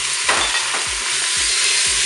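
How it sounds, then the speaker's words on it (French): Meat browning in hot olive oil, with a loud, continuous sizzle and a run of rhythmic stirring scrapes close by. "on va pouvoir commencer quand même à faire revenir la viande"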